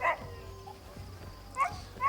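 A white dog in the open-world video game Crimson Desert gives two short, sharp barks, one at the start and another pair near the end, over quiet game ambience.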